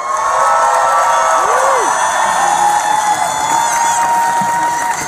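Large crowd at a political rally on a university campus cheering and applauding steadily throughout, loud and close, with whoops and a sustained roar of voices and no clear speech.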